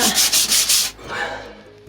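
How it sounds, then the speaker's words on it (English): Abrasive rasping of hand sanding on a fiberglass (GRP) boat deck, several quick rhythmic strokes close by, then a softer, slower rub that trails off. "Here it is, sanding it by hand"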